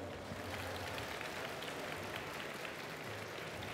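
An audience at Japan Expo 2019 applauds steadily, a dense wash of clapping from many hands, even in level and somewhat distant.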